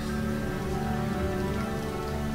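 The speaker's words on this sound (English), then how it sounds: "It just rained on them." Steady rain pattering on a surface throughout, dense and continuous with no voices.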